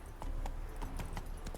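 Roach, a horse in The Witcher 3, galloping with quick, evenly spaced hoofbeats clopping over steady game ambience, no voices.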